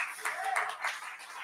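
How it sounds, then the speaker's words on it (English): An audience clapping at a speech about Uganda's independence, a short burst of brisk applause from a crowd that stays fairly close, without talking. "We can clap for that."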